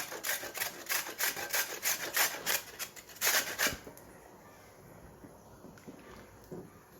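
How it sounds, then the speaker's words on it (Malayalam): A small carrot is grated for a home-style Arabian mandi, giving a steady run of rhythmic, bright rasping strokes up close for about four seconds before it stops and quieter kitchen noise follows. "ഈ ക്യാരറ്റ് ഒന്ന് ഗ്രേറ്റ് ചെയ്തിട്ട് കൊടുക്കണം കേട്ടോ."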